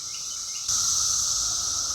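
Cicadas buzz on the Appalachian Trail on a hot, humid, overcast day, a loud continuous high-pitched drone that swells abruptly and then holds steady.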